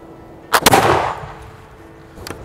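A smoothbore musket fires a round loaded with two wads, one above and one below the ball: a single loud, sharp report close by with a ringing tail that fades over about a second, and a faint knock follows.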